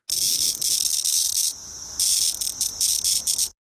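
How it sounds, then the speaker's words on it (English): A cicada picked up in the woods gives a harsh, buzzing distress call in loud close bursts, broken by a brief dip in the middle and ending abruptly, with no talking. "If you pick these cicadas up, they'll make a very angry noise at you."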